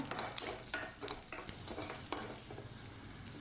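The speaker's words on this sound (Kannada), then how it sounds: "ಈಗ ನಾನು ಬೆಳ್ಳುಳ್ಳಿನ ಹುರಿತಾ ಇದ್ದೀನಿ" Garlic fries in a pan for a North Karnataka puṇḍi palya dish, a close, soft sizzle broken by repeated scraping stirs of a utensil at an uneven rhythm.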